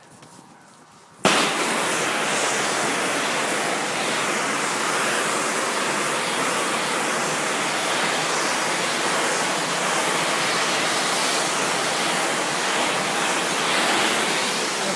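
A soft wash sprayer rinses a house exterior with a wide fan spray, starting abruptly after a brief quiet moment and continuing as a steady, loud, hissing rush of water close by, with no voices.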